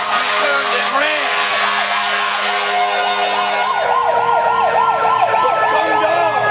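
Emergency vehicle sirens wail loud and close, a steady tone giving way to fast rising-and-falling whoops from a second siren in the latter half, with traffic rumble underneath.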